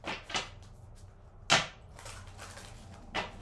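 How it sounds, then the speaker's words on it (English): A deck of tarot cards is shuffled by hand, giving a few quick riffling bursts separated by short pauses, close and fairly quiet with no talking. "Let's do two more shuffles."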